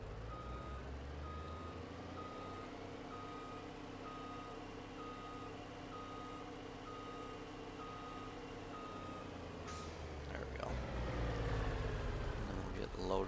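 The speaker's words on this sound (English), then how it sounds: "let's get this truck back to cross the road here" A truck in Farming Simulator 22 reverses with a steady, evenly spaced electronic beep over a low engine drone, running unbroken for most of the stretch before louder clattering and engine noise swell near the end.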